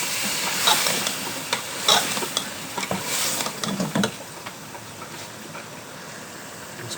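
Dal lentils fry in a pan with a soft sizzle and hiss, while a spoon scrapes and stirs through them in repeated clinks and scuffs at close range.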